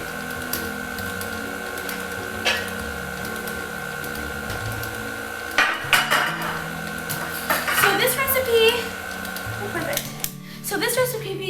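A metal baking pan for vanilla cupcakes handled in a home kitchen, with scattered clattering knocks and scrapes that grow busier toward the end, over a steady electrical hum and some talk.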